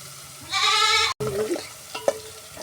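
Garlic and green chillies frying in a pan for North Karnataka-style chicken gravy, a brief burst of hissing sizzle followed by a few scraping stirs, close and fairly loud.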